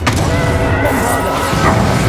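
Bombarda spell blast in the Hogwarts Legacy video game, a heavy booming crash that fills the whole clip as one dense, loud roar with rumbling layers of debris and battle noise.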